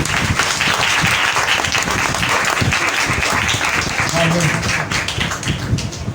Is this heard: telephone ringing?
no